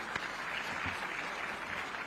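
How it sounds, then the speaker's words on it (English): Steady applause from a crowd fills the whole stretch, a dense even patter of many hands clapping at once. "May we clap for Anton?"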